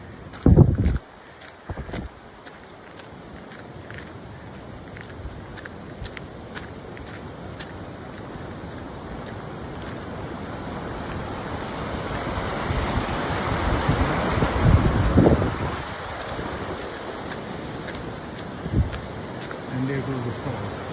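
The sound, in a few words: river waterfall along trail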